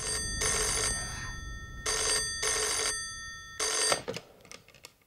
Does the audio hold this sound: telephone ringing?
yes